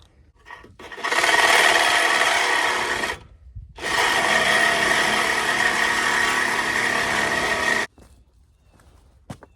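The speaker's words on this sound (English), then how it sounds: "Try out my new handy dandy Ryobi cordless" A Ryobi cordless drill drives half-inch bolts: two long, loud, close bursts of steady whirring, the first about two seconds and the second about four, separated by a brief pause, with no talking.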